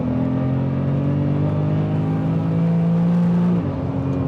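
A 1000 hp twin-turbo BMW M3 pulls hard in fifth gear, its engine droning loud and close from inside the cabin as the pitch climbs steadily before settling slightly near the end.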